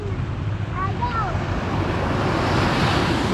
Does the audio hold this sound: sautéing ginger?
no